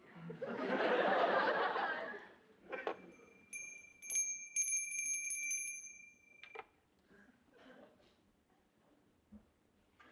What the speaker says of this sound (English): Aren't you going to ask me why I rang the bell?